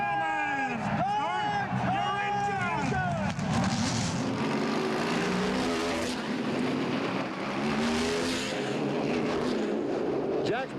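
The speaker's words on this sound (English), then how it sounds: "Jack Sprague and Todd Bodine bring the cars down for the green flag from unregistered starter" NASCAR race cars at the Champion Spark Plug 300 roar steadily as the pack comes down toward the green flag, loud and continuous, with engine pitches sweeping past and a commentator talking over the noise.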